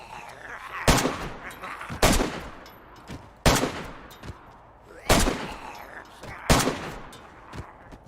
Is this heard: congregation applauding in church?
no